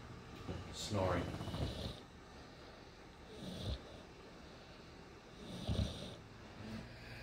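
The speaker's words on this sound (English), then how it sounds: "Snoring." An American Bulldog snores softly and slowly, a few breathy rumbling snores spaced a couple of seconds apart against a quiet room.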